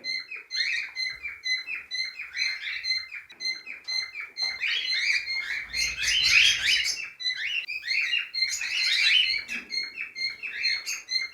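Cockatiels chirp in a breeding cage, with repeated bright, close tweets and calls running steadily throughout and a few louder, busier bursts of overlapping chatter.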